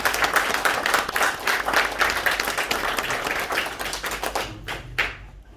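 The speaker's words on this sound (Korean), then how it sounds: "고성만 선생님께 박수 부탁드리겠습니다." Applause from the audience at a Korean theatre award and scholarship ceremony: dense, steady clapping that fills the room, thinning into a few scattered claps before it fades out at the end.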